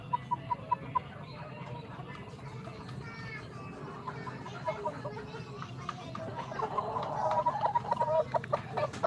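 Pet chickens clucking nearby in short repeated calls over low background murmur, growing busier and louder toward the end, with faint voices underneath.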